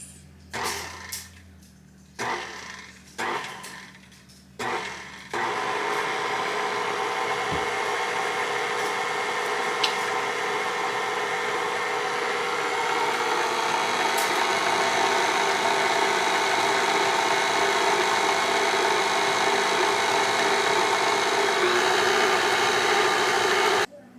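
An electric hand mixer beats cream cheese frosting with powdered sugar for a carrot cake, starting with a few short bursts and then running as a loud, continuous whirring drone close by.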